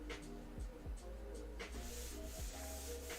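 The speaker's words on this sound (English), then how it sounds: "Sanding ASMR" Soft, close scratchy rubbing of sandpaper on a cosplay prop surface, in a few repeated strokes over a low background hum.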